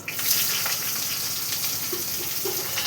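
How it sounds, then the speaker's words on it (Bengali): Chopped onion frying in hot oil with whole dried red chillies, cumin seeds, bay leaf and green chillies for a tilapia curry, a continuous dense sizzle close up with no talk. "পেঁয়াজ লাল লাল করে ভেজে নেব।"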